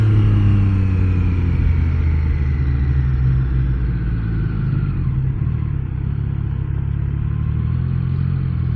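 Triumph Trident 660, a 660cc three-cylinder motorcycle, running steadily while being ridden, with a constant low engine drone under rushing wind noise and no talk.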